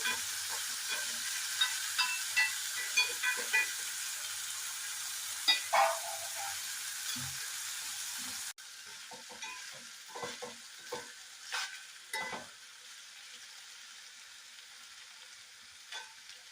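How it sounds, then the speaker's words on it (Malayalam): Green beans being stir-fried for mezhukkupuratti in a pan, loud sizzling with regular scraping and tapping of a spoon, then after a cut the sizzle drops to a fainter crackle with more sporadic stirring clinks. "ഇളക്കി ഒന്ന് തട്ടിപ്പൊട്ടി വയ്ക്കാം"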